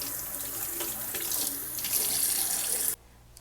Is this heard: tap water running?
yes